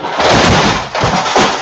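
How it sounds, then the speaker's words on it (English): A large green screen knocked over by a dog, giving a loud, broadband crash with clattering thuds that lasts for about a second and a half. "My dog went behind it because he wants to be right next to me and knocked over the whole green screen"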